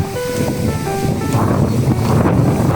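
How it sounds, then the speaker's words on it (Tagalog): Steady, strong, cold wind roars and buffets the microphone at a lakeside farm, with a low continuous rush and faint water or surf underneath. "Sobrang lakas ng hangin, ang lamig."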